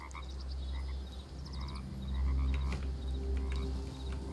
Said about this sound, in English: So I'm a frog now.